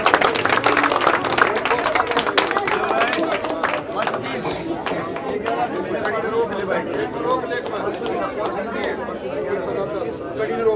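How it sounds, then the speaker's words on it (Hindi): A village audience applauds during a felicitation ceremony for a 19-year-old dragon boat gold and silver medallist, with steady crowd clapping and chatter that fade somewhat after the first few seconds. "भाई बच्चों आपकी ताली ना रोकनी चाहिए।"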